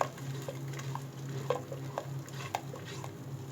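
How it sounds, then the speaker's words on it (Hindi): Tomato paste stirred into hot oil in a kadhai while making beef karahi gosht: a steady sizzle and fry with scattered spoon scrapes and taps against the pan, close and moderately loud. "इसको भी हम अच्छी तरह मिक्स करेंगे ऑयल में"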